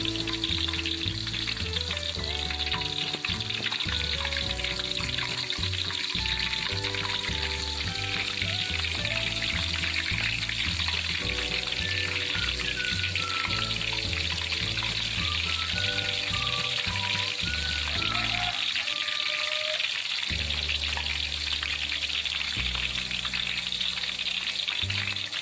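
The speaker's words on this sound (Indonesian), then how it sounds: "Jika sudah panas, maka masukkan daun singkong ke dalam minyak." Cassava leaves fry in hot oil for crispy chips, a loud continuous sizzle and bubbling that runs throughout beneath a soft background melody.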